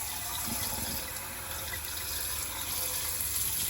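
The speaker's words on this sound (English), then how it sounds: "It's completely safe for you guys to just rinse it underwater." Tap water runs steadily over a part of a Dyson V15s Submarine wet-roller vacuum being rinsed under a faucet, a continuous close splashing and gushing with no voices.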